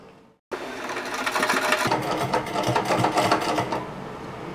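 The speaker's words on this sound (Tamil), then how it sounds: "இப்படி வச்சு ஒரு தையல் போட்டுடலாம்." Sewing machine stitching light fabric for a frill pillow cover, starting abruptly after a brief silence and then running continuously with a rapid, steady rattle, close and clear with no voices.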